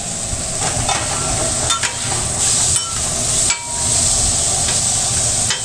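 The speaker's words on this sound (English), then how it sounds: "This steak cooks quite fast" Steak sizzles on a food truck griddle, a loud, close, continuous hiss with intermittent scraping clatter and a brief dip partway through.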